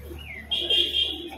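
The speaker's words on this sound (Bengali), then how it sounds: "এটা একটা নর পায়রা, ঝুটি, মাথায় ঝুটি, খুব সুন্দর কালারের মধ্যে রয়েছে" A male crested pigeon gives a soft, brief coo close by, a single low murmuring call rising slightly in the middle against a quiet background.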